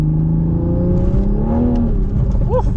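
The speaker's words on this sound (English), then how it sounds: "Open the window a little bit for you guys to hear the pops." A Toyota A90 Supra engine revs continuously from inside the cabin during a pull, its tone rising and falling with a few sharp exhaust pops near the end over steady road noise.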